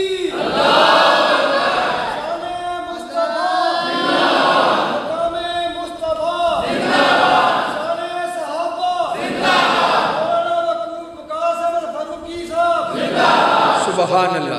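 A crowd at a religious sermon gathering chants in unison in answer to the Nara-e-Takbir slogan, with loud, full-throated shouts repeating about every three seconds.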